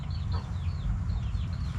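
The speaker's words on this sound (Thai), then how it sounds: "มีทั้งไก่ยวงบ่อนห่านบ่อเสียงดัง เสียงห่านนะครับที่ดังอาดอาดอยู่นะ" Chickens and geese calling in a rural farmyard, with a run of thin repeated honking or clucking calls over a steady low background rumble, fairly quiet and continuous.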